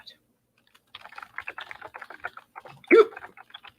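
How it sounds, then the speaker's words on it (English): Close, quick typing on a computer keyboard, a run of light clicks with one louder clack near the end, in an otherwise quiet room. "I apologize if the typing is loud. The keyboard is right next to the microphone."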